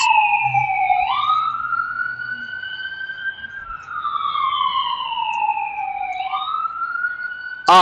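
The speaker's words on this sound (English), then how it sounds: "Oh no, that's an ambulance." An ambulance's wailing siren sweeps up and down in long, slow cycles as it passes, fairly loud and close, over low traffic rumble.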